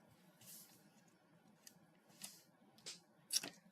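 Scissors trimming paper for a handmade card: a few quiet, close snips spaced irregularly over a few seconds, with soft rustling in between.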